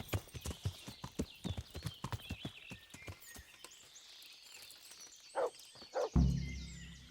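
Video game horse hooves in Kingdom Come: Deliverance clip-clop in a quick, even rhythm, then slow to a few scattered steps before a low thud at the end.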